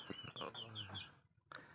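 Free-range chickens kept near a goat pen cluck quietly in a quick run of short calls, faint and close, ending in a brief pause before one more cluck.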